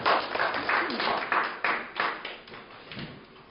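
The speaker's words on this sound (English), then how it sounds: "round of applause for our volunteers" An audience gives a round of applause for volunteers at a business seminar, with steady, moderately loud clapping that swells in uneven bursts for several seconds before tapering off.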